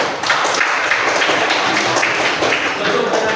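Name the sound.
applause from class after a student's speech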